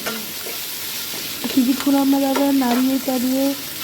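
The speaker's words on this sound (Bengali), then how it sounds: "ভালো করে আমরা নাড়িয়ে চাড়িয়ে নেব।" Tomato chutney with turmeric being stirred in a pan, a close scraping and stirring with a steady sizzle underneath, running alone and growing louder partway through.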